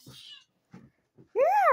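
A pet cat, a female, gives a single clear rising-and-falling meow at the end, close by, after a few short bits of a person's voice.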